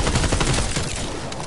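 Dense, continuous video game gunfire rattles through the whole short burst, loud and close, with rapid shots blurring into a steady fusillade.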